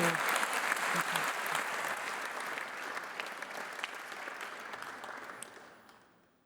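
An audience applauds an opera singer at an evening event, steady close clapping from a crowd that gradually fades out.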